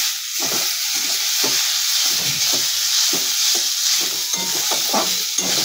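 Banana-stem (thor) stir-fry being stirred with a sprinkle of sugar in a pan, giving soft scraping strokes in an uneven rhythm over a steady sizzling hiss, close and fairly loud.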